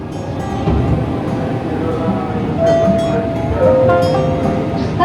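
A KRL commuter train rolls along the rails near Bekasi, a steady low rumble with occasional clanks and a brief squeal, heard from inside the carriage with faint voices in the background.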